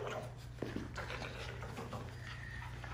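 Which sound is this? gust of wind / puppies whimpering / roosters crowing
puppies whimpering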